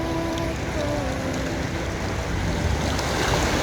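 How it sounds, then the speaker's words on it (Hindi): Torrential rainwater rushing through the streets in front of the Haram in Makkah during heavy rain, a steady broadband roar of flowing water with some wind noise, loud and continuous throughout. "हरम के सामने ये पानी का रेला देखें।"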